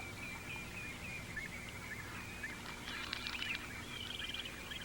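A wild drake duck calls to its nesting mate in open countryside, giving a run of faint, distant nasal calls over a steady background hiss of wind and ambience.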